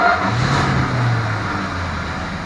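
A 1968 Dodge Dart GT convertible with a 273 Commando V8 and four-speed fires up, the engine catching into a loud, close rev before settling to a steady, slightly quieter running note.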